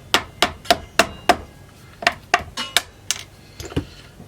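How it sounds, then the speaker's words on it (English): Sharp, close taps knock at the plastic nut of an LTD EC-256 electric guitar to work it loose, about a dozen distinct hits in irregular bursts with short pauses between. "So we're going to take that nut off now."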